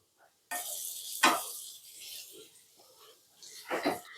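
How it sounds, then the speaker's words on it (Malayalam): Onion and split white bird's-eye chilies sauté in a pan for a raw plantain dish, with a steady close sizzle broken by two louder spatula scrapes and stirs. "ഇനി നമുക്ക് നല്ലോണം ഒന്ന് വഴറ്റിയെടുക്കാം"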